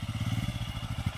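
A motorcycle engine on an off-road group ride in Jammu, a low rapid throbbing idle pulse, steady and close with faint clatter, no talking.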